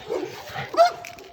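An American Staffordshire terrier outdoors on an Istanbul street gives a short, fairly close bark or yelp amid background noise, with faint human voices around it.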